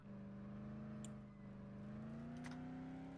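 A car arrives in the zombie game Dead Island, its engine a steady, droning hum that swells slightly as it nears and runs continuously throughout.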